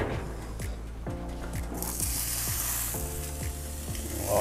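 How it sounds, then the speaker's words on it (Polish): Halved choripan sausages sizzle steadily on a preheated grill plate, a close, continuous crackle with no voices. "Płytę mamy rozgrzaną, wrzucamy od razu na grill."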